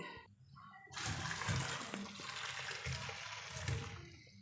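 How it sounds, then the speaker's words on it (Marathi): Hot water is drained from a pot of boiled drumsticks, gushing out in a steady splashing pour after a brief pause, rushing and gurgling for several seconds before tapering off. "आता गरम पाणी काढून टाकणार आहे"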